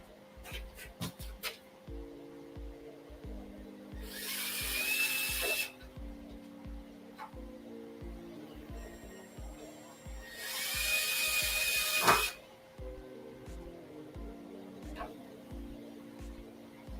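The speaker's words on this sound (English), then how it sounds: "Let me drill a couple at a time" Two separate bursts of a power drill, each about two seconds long, bore holes for a takadai braiding stand several seconds apart. Quieter clicks, taps and low hum fill the gaps between them.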